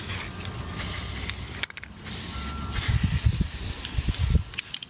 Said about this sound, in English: now I finished the primer, and this is me putting the final coat on. I'm just using Rust-Oleum paint